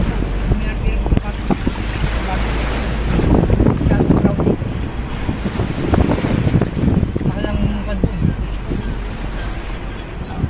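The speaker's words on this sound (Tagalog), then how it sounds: "Dagat na ito ni IB, mga bata." Sea waves roll along the Dingalan, Aurora coast, surging and washing in two broad swells under heavy wind buffeting on the microphone, with people talking faintly nearby.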